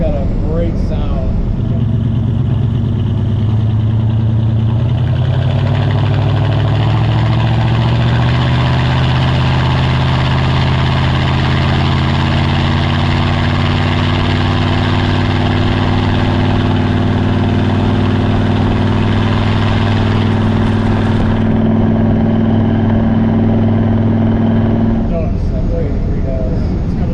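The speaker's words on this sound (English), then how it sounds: "one noise I do want to talk about is actually how well that 383 sounds on this car" A 1965 Plymouth Sport Fury convertible's 383 Commando V8 rumbles at idle, close and loud, with a deep steady throb and slight shifts in pitch before cutting off near the end.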